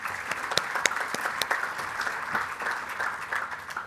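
An audience applauds at a student awards ceremony for Governor's Commendations, with dense, steady clapping from many hands throughout.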